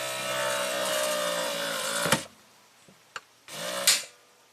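Cadillac Allante convertible top motor whirring steadily under power from a high-amp test light, then cutting off abruptly, followed by a couple of faint clicks and a second short burst of motor whine.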